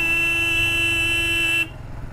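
A motorcycle horn honks in one sustained, loud, steady blast on a mountain road in Dras, Ladakh, over a low engine rumble, cutting off abruptly near the end and leaving only the engine.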